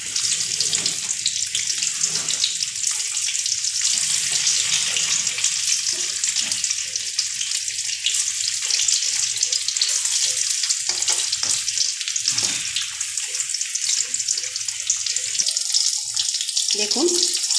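Stuffed kakrol (spiny gourd) pieces fry in hot oil, giving a continuous bright sizzle with occasional clatters and stirring noises, close and steady.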